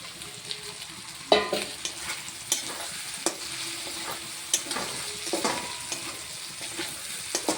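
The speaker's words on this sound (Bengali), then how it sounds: "আলুগুলো দিয়ে ভালো করে এটা ভাজা ভাজা করে কষিয়ে নেব" Oil sizzles steadily in a pan while a spoon scrapes and stirs pre-fried potatoes at irregular intervals, the clinks and scrapes close and fairly loud.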